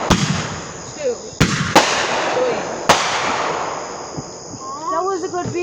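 Fourth of July fireworks go off outdoors in four sharp, loud bangs spread over a few seconds, with people talking and reacting in between.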